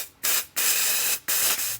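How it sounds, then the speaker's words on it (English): Compressed air blasts backwards through a fuel system part from a Husky FE350 motorcycle, coming as three loud, sharp hissing bursts with brief gaps between them, close up and with no voices. "Take some compressed air and blow through it backwards."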